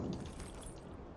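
Glass windows shattering in the battle game PUBG, a short burst of breaking and tinkling shards at moderate level with low game noise beneath.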